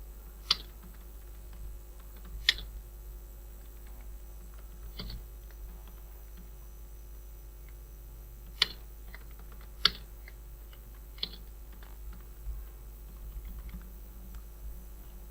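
Sparse keystrokes on a computer keyboard while entering a company name in an Excel spreadsheet, a handful of isolated clicks spread unevenly across a quiet room with steady low hum underneath.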